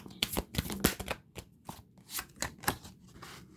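Tarot cards drawn and shuffled by hand, quick papery flicks and slaps in irregular bursts, close and fairly soft; no talk.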